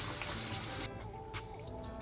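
Lukewarm tap water runs into a sink for face washing, a close hiss of flow that cuts to a quieter trickle and drips partway through.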